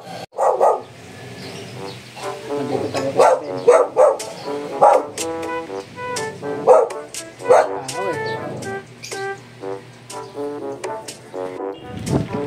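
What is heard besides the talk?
dog barking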